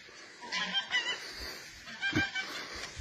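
A village goose honks in several loud, harsh bursts spread across a few seconds, close by, with no talk over them.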